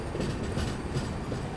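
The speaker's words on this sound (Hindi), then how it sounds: "अरे बीच में गुड्स आ गई, उसको सिग्नल दिया हुआ है देखो, वो ओवरटेक कर रही है इसे।" A goods train runs alongside on the railway near Jenapur, overtaking a passenger express between Kolkata and Puri, its steady loud rumble and wheel clatter filling the whole span.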